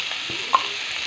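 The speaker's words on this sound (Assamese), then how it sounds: "এবাৰ লৰাই লৈছোঁ, নতুবা তলৰ পিঁয়াজটো বেছি ৰঙা হৈ যাব" Onions frying in a pan being stirred, a soft steady sizzle with a single brief scrape of the spoon.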